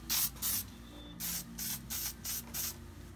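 Several short hisses of an aerosol spray can laying a very light coat of paint on an RC car body, about seven bursts in a steady stop-start rhythm, close and fairly quiet.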